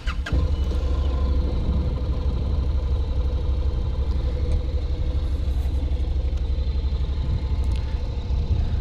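A 2014 Honda CTX700 DCT motorcycle starts, then its engine idles close by at a smooth, quiet, steady rhythm with a soft exhaust rumble and faint injector ticking, with no talk.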